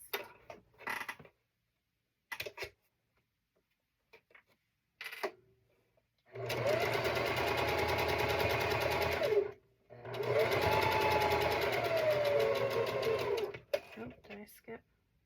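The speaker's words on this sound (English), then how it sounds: "Let's sew our last piece." A sewing machine stitches cat-themed quilt pieces in two sustained, steady runs of a few seconds each, separated by a short pause, with brief talk and small handling sounds before them.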